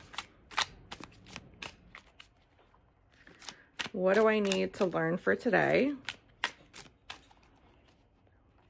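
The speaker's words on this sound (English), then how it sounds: "The fact that the cards are bent are making it really hard to shuffle." Repeated crisp riffle-and-snap bursts of a deck of bent cards being shuffled, close up, with a person speaking over the middle of it.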